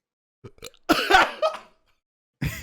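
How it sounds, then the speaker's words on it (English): A person burps in the middle of a laugh, giving short voiced bursts and throaty gulps that break off, then a brief pause before another burst. "You burped laughing."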